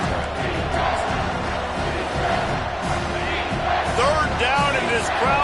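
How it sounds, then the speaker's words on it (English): Loud, sustained roar of a college football stadium crowd on a third-down defensive play, a dense wall of cheering and yelling that swells toward the end, with a broadcast announcer's voice over it. "Third down, and this crowd will blow out a vocal cord to help this defense."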